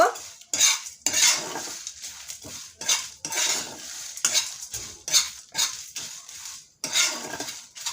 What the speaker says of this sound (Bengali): আমি পাঁচ মিনিট মতো মশলাটা ভেজে নেব